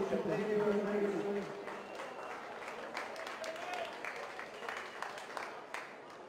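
Crowd applauding match officials at a football grand final, Westfields Sports versus PB Blacktown, with a faint, distant patter of clapping in a large outdoor space under a voice on the public address.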